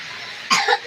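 A single short cough, close and fairly loud, over quiet background hiss.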